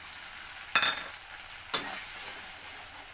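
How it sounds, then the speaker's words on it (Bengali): Ginger, cumin and chili paste with garlic and tomato paste being fried and stirred in a pan while cooking a Bengali paneer masala, two sharp sizzling bursts as ingredients hit hot oil, then a quiet simmering hiss. "একসাথে একটু ভালো করে ভেজে নেব।"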